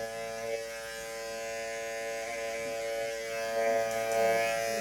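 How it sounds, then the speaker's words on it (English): Electric hair clipper running with its guard fully open, a steady close high buzz with dense harmonic hum that holds unbroken throughout and grows slightly louder near the end. "It's just my clipper all the way open."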